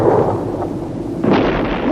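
Gunfire or an explosion near a fort: a sudden broad blast about halfway through, followed by a sustained roar and rumble, fairly loud and with no talking.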